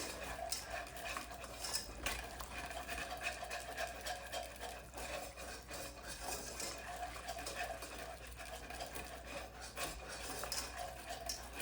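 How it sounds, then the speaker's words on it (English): A whisk scrapes and stirs flour into grease in a pan for a hamburger steak roux, giving a quiet, continuous rubbing and metallic scratching with a low hum beneath. "it's best to use a whisk so that it's not lumpy"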